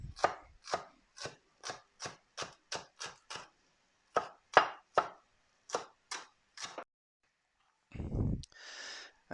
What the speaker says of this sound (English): so I'll finely chop this